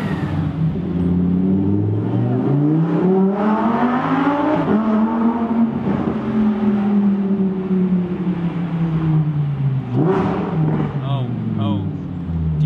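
A Lamborghini Huracan Performante Spyder in Corsa mode revs hard and accelerates, its loud engine note sweeping up and down through several gears, with people talking over it inside the car.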